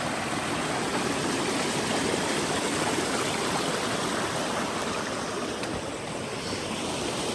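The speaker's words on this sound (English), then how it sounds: "We gotta cross this stream coming from a waterfall up there." A stream flowing down from a waterfall on a Patagonia trail, a dense, steady rushing of water, loud and close, continuous without pause.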